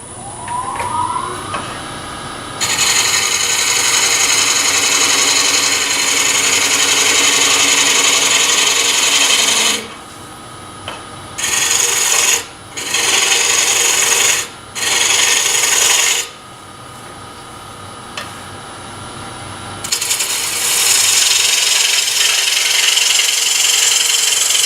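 A bowl gouge roughs out a wooden bowl on a lathe with loud, close, continuous scraping and hissing. The cut breaks off into several short bursts in the middle, then runs steadily again, with no speech.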